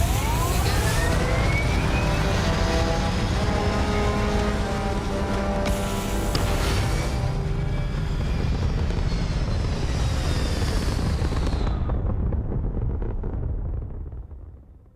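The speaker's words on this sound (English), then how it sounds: "Engines firing." Spaceship engines firing in modded Starfield, a loud sustained roar with rising whining tones and a sharp shift midway, holding steady for over ten seconds before fading out at the end.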